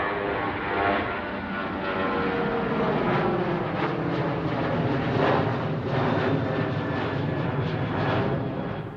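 Airliner at Domodedovo airport, just arrived from Norilsk, with a steady, loud engine roar and broad rushing hum that holds for the full stretch without any talk.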